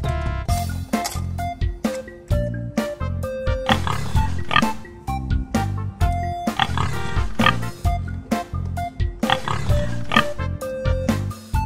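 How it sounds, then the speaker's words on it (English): Cartoon pig oinks in a children's farm-animal learning show, short grunting bursts repeating between bright, bouncy musical notes and a steady beat. "Pig."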